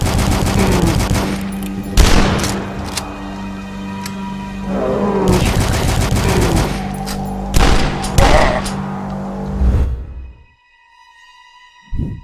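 Rapid gunfire from the fast-paced retro shooter game Dusk, dense bursts of shots over a driving background score, ending abruptly into near silence with a faint tone.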